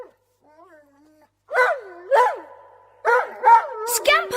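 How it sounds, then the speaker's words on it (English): A dog whining in delight as a sound effect in an audiobook reading: several excited yelping whines and whimpers, rising and falling in pitch, in short bursts close up after a near-silent pause. "something bounded down the steps at top speed and flung itself on top of Peter, whining in delight"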